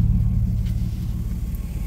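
A repaired car engine runs smoothly, giving a steady low rumble with an even pulse, close and continuous through the short stretch.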